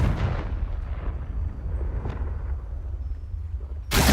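A Confringo blasting spell explodes in Hogwarts Legacy, a sustained low rumbling roar that fades slowly, then a sharp new burst hits at the very end, with no talking.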